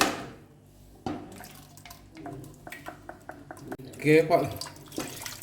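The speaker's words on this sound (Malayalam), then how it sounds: "അരച്ചെടുത്ത് ഇതിലോട്ട് കുക്കറിലോട്ട് ഒഴിക്കുകയാണ്" Blended mixture pours and splashes into a metal pressure cooker with a few light clinks, while a person keeps talking over it.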